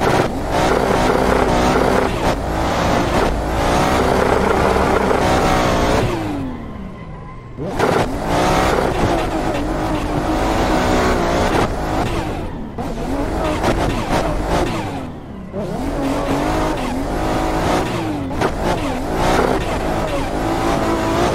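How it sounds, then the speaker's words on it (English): A loud 700-horsepower JZ-engined Toyota Aristo revs hard while tires squeal in long drifting skids, the roar dropping away briefly twice before surging back. "I actually did some epic skids the other day in the DCGP Aristo"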